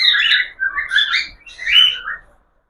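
Pet budgerigars chirp and chatter in three quick bursts of bright, high tweets and squawks, close by and fairly loud, with silence at the end.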